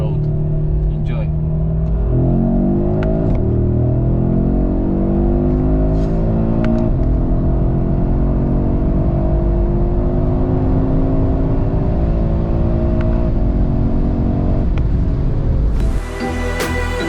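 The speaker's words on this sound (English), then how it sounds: "Now we can push the throttle a little bit on the closed road." An Audi RS3 8Y pulls hard on a closed road after its engine running-in, a loud, steady engine drone climbing through rising pitch sweeps as it accelerates and shifts, continuous and close throughout.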